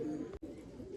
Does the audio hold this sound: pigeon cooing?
yes